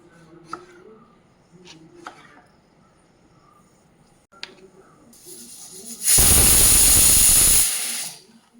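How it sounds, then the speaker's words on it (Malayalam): A stovetop pressure cooker holding jackfruit seed curry with snake gourd hisses loudly for about two seconds as its whistle releases steam, after a stretch of quiet kitchen sounds and faint clinks. "ഇപ്പം രണ്ട് വിസിലായി നമുക്ക് സ്റ്റൗ ഓഫാക്കാം"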